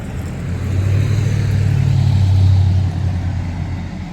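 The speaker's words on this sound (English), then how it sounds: "everybody here has really loud trucks" A loud engine rumble swells and fades as a heavy vehicle passes nearby, a deep drone peaking in the middle and trailing off, with no talking.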